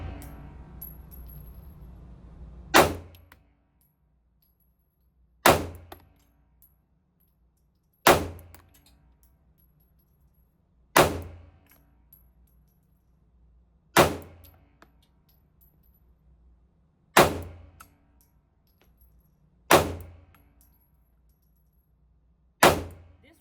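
A Sig Sauer P365 .380 fires PMC 90-grain FMJ rounds in eight slow, evenly spaced sharp shots, each loud crack followed by a short ringing decay, with near silence between them.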